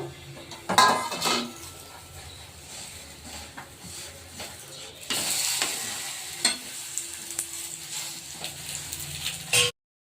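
Black sesame seeds dry roasting in a pan as a spoon stirs and scrapes them, giving a steady, close rustling and scraping with a few sharper clinks against the metal and no voices.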